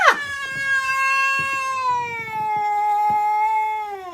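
A cat guarding a house yowls at an estate agent: one long, loud, drawn-out cry that starts sharp and high, then settles into a steady wail close by.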